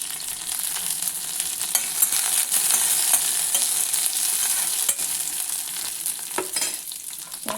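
Garlic, dried red chillies and green chillies sizzle steadily in hot oil, a bright continuous crackle close up with occasional clicks of stirring.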